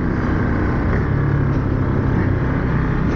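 A 2021 Ducati Monster 950 engine rumbles loud and close under throttle, a steady raspy drone with faint crackles, recorded while riding.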